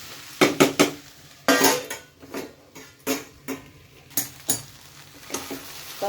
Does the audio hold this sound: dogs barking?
no